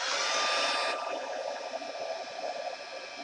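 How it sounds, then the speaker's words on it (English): An embossing heat gun blows a steady, loud, breathy whoosh of hot air over embossing powder for a craft project, its tone softening slightly after the first second and holding on without any voices. "I'm going to be turning on the embossing tool"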